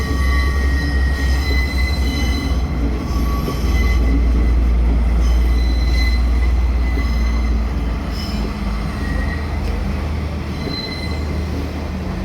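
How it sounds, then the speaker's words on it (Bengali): A train rumbles into a tunnel near Ella, Sri Lanka, with a loud, continuous low roar and high, sustained wheel squeal. The sound is close and steady throughout, with no voices. "ট্রেন চলে টানেলের ভিতর ঢোকার যে দৃশ্যটা।"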